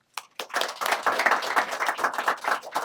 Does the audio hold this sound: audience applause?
yes